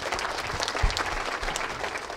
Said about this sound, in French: Je voulais que vous l'applaudissiez.